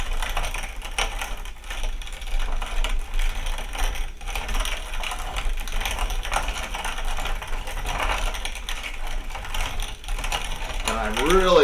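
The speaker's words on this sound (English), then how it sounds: "we'll let you see how it goes down into the auger. And it's slowly working its way down." Dried feed corn feeding down into the auger of a grain mill, a steady close rattling and clattering of kernels and turning gears that continues without pause.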